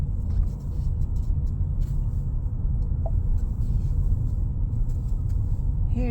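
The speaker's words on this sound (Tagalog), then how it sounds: "Here it's very traffic." Steady low rumble of city street traffic in San Francisco, cars and engines droning continuously nearby with no clear passes standing out.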